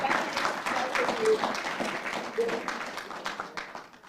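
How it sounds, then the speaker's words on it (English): An audience at an author talk claps together in a steady ripple of applause that fades slightly by the end, with a voice speaking briefly over the clapping. "Give a round of applause."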